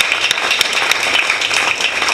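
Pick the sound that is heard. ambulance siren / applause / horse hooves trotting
applause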